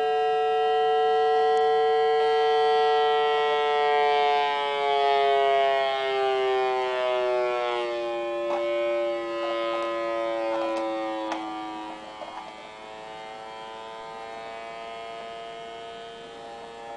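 Single-magnet, bearingless Bedini/Davro motor spinning under load, giving a steady siren-like electric whine that slowly sweeps in pitch over a low hum, close and continuous, with faint clicks and no talking.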